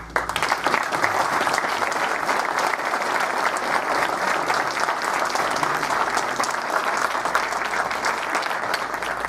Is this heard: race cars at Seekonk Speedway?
no